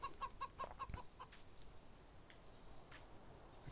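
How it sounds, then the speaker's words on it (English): Farm chickens in the Farming Simulator video game give a quick run of about five soft clucks at the start, then fall to a faint, quiet backdrop. "Chickens have been working hard."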